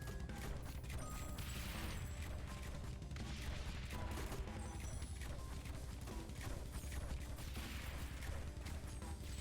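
Mortar towers in the game Rogue Tower fire continuously, producing a dense, steady barrage of thuds and crackling impacts with no pauses, heard alone without talk.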